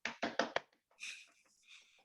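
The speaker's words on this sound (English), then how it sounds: "Clapping on my own here" A single person clapping alone, four sharp close claps in quick succession, followed by faint scattered sounds.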